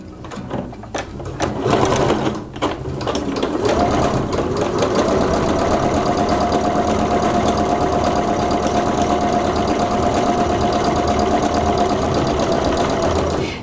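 Sewing machine back tacking a quarter-inch seam with big stitches on a tote: a few short starts and stops, then a loud, close, continuous whirring run of stitching that holds steady to the end.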